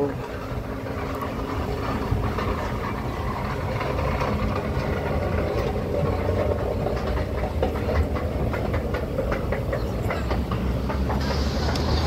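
Barcelona metro train in Spain rolling steadily with a continuous loud rumble and rattling wheel noise, heard close from inside or beside the carriage, with no voices.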